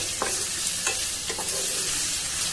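Potato pieces fry in hot oil for a Bengali jackfruit curry, giving a constant dense sizzle close up, with a few soft scraping stirs of a spatula and no talking.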